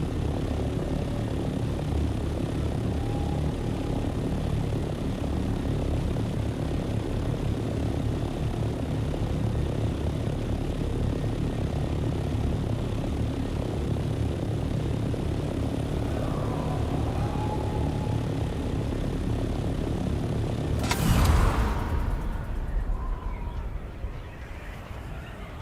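A flying aircraft in the video game Dune Awakening gives a sustained droning engine rumble for the whole stretch, steady and fairly loud, with a brief swell near the end before it settles.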